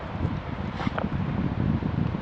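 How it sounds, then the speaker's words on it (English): Strong wind on a long ridge buffets the microphone with a rough, gusty low rumble throughout, no voices. "It's extremely windy right now."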